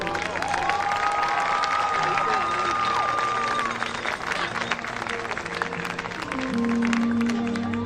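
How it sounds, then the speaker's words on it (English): A crowd in the stands at a high school varsity football game applauds and cheers the homecoming court, a broad roar of clapping and shouts with a whistle-like tone and some voices mixed in. "please give your homecoming court a round of applause"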